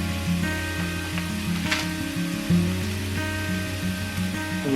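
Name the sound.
ginger paste sizzling in a pan with browned ground beef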